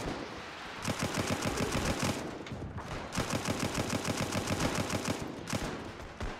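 Enemy machine gun fire in the WW1 game Between Empires, long rattling bursts of rapid shots at moderate distance, separated by short gaps.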